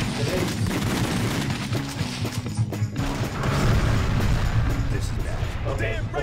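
Submachine gun fire in House of the Dead Overkill on the Wii, a loud dense rattle of shots with crashing impacts layered under game music and a talking voice throughout.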